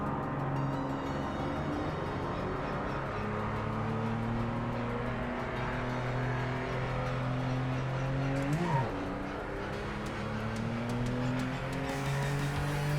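A race car engine in the Project Motor Racing video game holds steady tones that step up as throttle increases toward full, a continuous layered drone with no talk audible.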